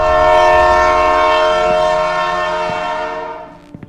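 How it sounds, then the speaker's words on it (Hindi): A loud, sustained train horn blares with a rich harmonic tone, fading out toward the end, followed by a few faint clanks. "इंजन के हॉर्न की आवाज आई।"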